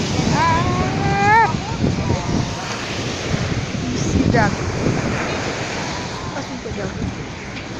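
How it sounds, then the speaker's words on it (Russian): Sea waves wash onto the shore in a continuous roar, with heavy wind buffeting the microphone; people talk briefly over the surf. "Вот. У нас море."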